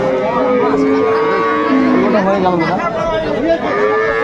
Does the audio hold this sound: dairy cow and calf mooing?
yes